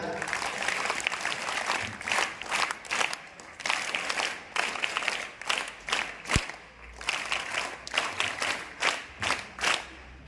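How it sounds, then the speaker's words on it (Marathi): An audience at a school gathering claps together in a sustained round of applause, dense, fairly close and rising and falling in waves for about ten seconds, with a brief sharp knock partway through. "आपण सर्वजण आपणच आपल्यासाठी टाळ्या वाजवून स्वागत करूया"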